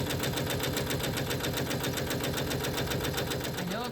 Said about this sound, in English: it's going to go stitch around whatever the letter is. It's going to stitch around once